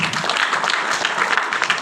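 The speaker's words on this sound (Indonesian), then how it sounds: "tepuk tangan dulu dong." Church congregation clapping hands in a dense, steady burst of close applause.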